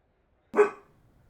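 A single sharp bark from a dog in the video game Dragon Age Inquisition, close and alone, which fades quickly into silence.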